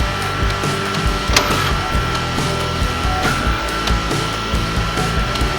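A direct-to-garment printer lays down a white ink layer on a shirt, a loud steady mechanical whir with rhythmic clicks and carriage knocks repeating throughout, no talk.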